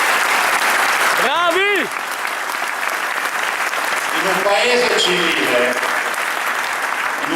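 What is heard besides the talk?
crowd applause at a political rally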